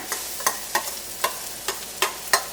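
Finely chopped onions frying for a white chickpea curry: a steady sizzle punctuated by regular, crisp stirring strokes against the pan, close and without talk.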